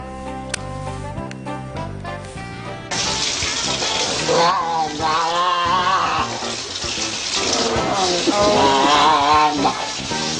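A shower runs as steady hissing water while a person sings in it. Tonal music or singing comes first, then the broad water wash joins about three seconds in and continues under the voice.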